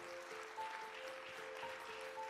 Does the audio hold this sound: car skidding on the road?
no